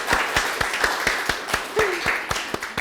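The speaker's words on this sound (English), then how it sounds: "Give him a round of applause." Audience at a London IT peer-group mentoring event claps in a steady, fairly regular rhythm, loud and near, with a brief voice heard among the claps.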